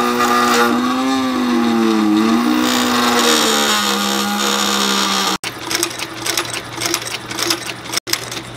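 Sewing machine stitching thick leather on 80-year-old boots, a loud whirring motor run with rising and falling pitch for several seconds, then rapid uneven mechanical clatter of the needle punching through the leather, broken by two brief cuts.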